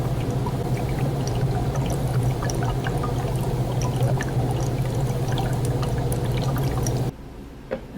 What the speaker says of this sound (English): dropping some dry ice in some universal pH indicator